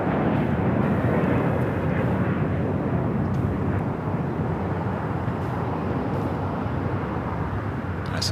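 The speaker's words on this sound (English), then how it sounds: "So Asiana pulling in between the China Airlines A350 and the Emirates A380." An Asiana airliner taxis in toward the gate at LAX between parked widebodies, a dense, steady engine rumble and hiss holding constant throughout, fairly loud and close.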